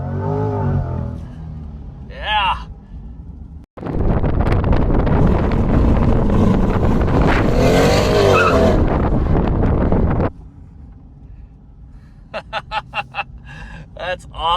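Chevrolet Corvette C8 launching hard in launch mode, a loud sustained engine roar with wind buffeting that holds for several seconds then cuts off, preceded and followed by people talking inside the car.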